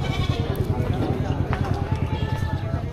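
Goats at a livestock market bleat amid a busy crowd, with overlapping voices and shuffling hooves forming a dense, steady background.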